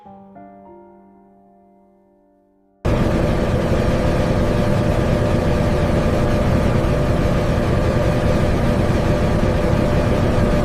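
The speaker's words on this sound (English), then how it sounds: "The turbine engine now reaches high operational power inside the aerospace test chamber." A jet turbine engine runs inside an aerospace test chamber, bursting in after a fading tonal lead-in and settling into a loud, steady, broadband roar.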